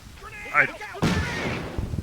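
Grenade explosion in the Combat Mission: Battle for Normandy video game, a single sudden blast with a rumbling tail, following a voice speaking just before it.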